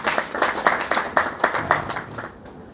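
A small audience at a Marathi Bhagavad Gita talk claps in rhythmic, fairly steady applause for about two seconds, then it quickly fades out.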